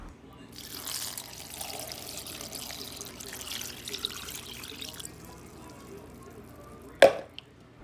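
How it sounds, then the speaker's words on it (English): Water poured into a pot of peach peels, a steady broadband splash and trickle lasting several seconds, fairly close, ending with a sharp clink of a pot or lid. "Next up is to add some water and boil these peels."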